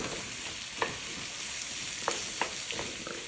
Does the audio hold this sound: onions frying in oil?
yes